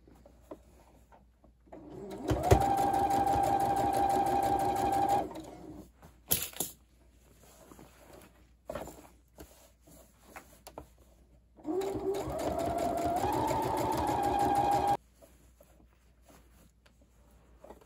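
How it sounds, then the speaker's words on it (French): A sewing machine runs a second parallel seam on a fabric book cover, in two sustained whirring bursts of a few seconds each separated by quiet handling clicks. "c'est de faire une deuxième couture pour avoir toujours une couture double"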